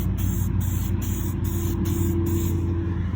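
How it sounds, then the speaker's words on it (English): Aerosol gloss white sprayed in thin coats onto a 2017 Chevy Silverado door panel, steady hissing bursts pulsing roughly every half second over a loud, low engine-like hum. "So now we are going to start spraying very thin coats of gloss white on this."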